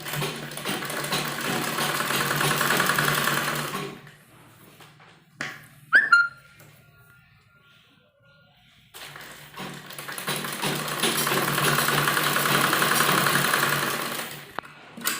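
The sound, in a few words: sewing machine stitching a kurti strip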